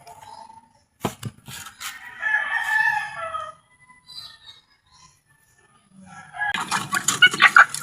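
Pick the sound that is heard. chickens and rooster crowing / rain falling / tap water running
chickens and rooster crowing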